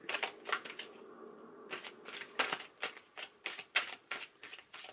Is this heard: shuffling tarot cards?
yes